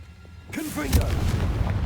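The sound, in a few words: Confringo explosive spell in Hogwarts Legacy video game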